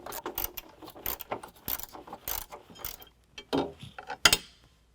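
Wrench work pulling 13mm bolts from the fog light bracket on a Ford F-150, heard as a run of close, quick metallic ratcheting clicks and clanks in short bursts, with a few sharper clinks near the end and no talking.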